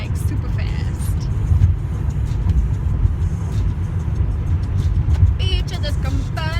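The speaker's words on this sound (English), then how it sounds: "I love driving the highway, but I can go super fast." A car cruises fast along a highway with a steady, loud low road and engine rumble, heard from inside the car, while a voice speaks briefly over it.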